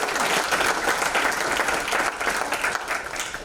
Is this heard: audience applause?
yes